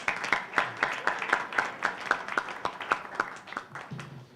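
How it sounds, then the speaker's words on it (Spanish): An audience at a panel on the situation in Ukraine applauds an ambassador with distinct, fairly close claps in a quick steady rhythm that dwindles near the end. "Le damos por favor un fuerte aplauso."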